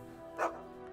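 A dog in South Park: The Stick of Truth lets out one short, sharp bark over a constant background hum from the video game.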